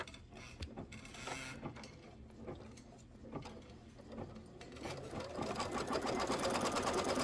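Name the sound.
embroidery machine sewing placement stitch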